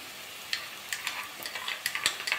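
Onion and ginger frying in a pan for egg rice, a steady low sizzle broken by irregular clinks and scrapes of stirring, close and moderately loud with no talking.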